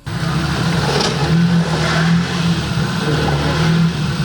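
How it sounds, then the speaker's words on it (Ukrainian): A car engine revs hard and holds a droning, wavering note as the car slides and drifts on a steep, ice-covered street slope, loud and continuous throughout. "Машина дрифтує на кризі, втрачає рівновагу і, врешті, потрапляє в пастку."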